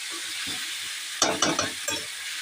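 Spiced chicken being stirred in a hot pan with chili and salt, a continuous soft sizzle broken by a few scraping, clattering stirs toward the end.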